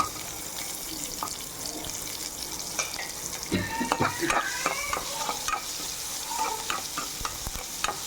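Onions and curry leaves sautéed in a pan for an ivy gourd and gram flour gravy, a steady sizzle under repeated scraping and stirring strokes, close and moderately loud, with some water-like splashing.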